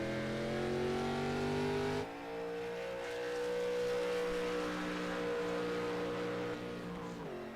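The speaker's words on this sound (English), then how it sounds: "Garrett May is on track right now" A race car lapping the track during qualifying, its engine a sustained tonal drone that shifts pitch through gear changes and rises and falls as it accelerates, heard at a moderate distance with no talking.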